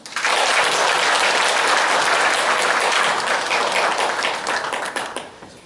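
An audience in a hall gives sustained applause at the close of a lecture at a CEO forum in Gumi, Korea. Dense, loud clapping runs steadily for about five seconds, then thins and fades.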